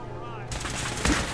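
Gunshots in the Fallout 4 video game, a quick cluster of sharp bursts in a brief moment of combat noise.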